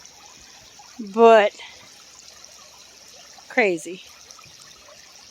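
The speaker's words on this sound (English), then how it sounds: "That was a lot of water that came through." Floodwater surging past a bridge after heavy rain, a steady rushing hiss running throughout, with two short bursts of speech over it.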